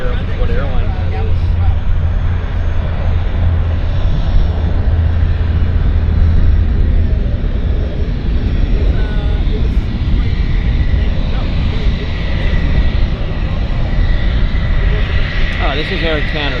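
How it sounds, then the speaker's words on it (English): An Air Canada airliner, flight 112 bound for Toronto, rumbles steadily at Vancouver Airport, a broad continuous engine roar with low drone, while people talk over it. "this is Air Canada's flight going to Toronto"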